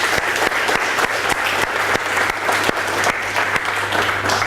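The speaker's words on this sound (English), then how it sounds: "So let's give them in particular a big round of applause." Lecture-hall audience applauding the organisers of a matrix functions lecture series, a dense, steady patter of many hands clapping continuously throughout, fairly close and loud with a low hum underneath.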